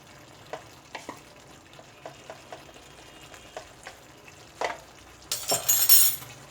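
Dum aloo curry, just seasoned with garam masala, is stirred in a pan with a spoon: soft scattered scrapes and taps over a low simmer, ending in a louder, busier burst of stirring.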